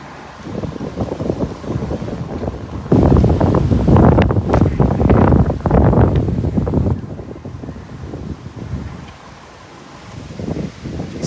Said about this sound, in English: See that wind whipping.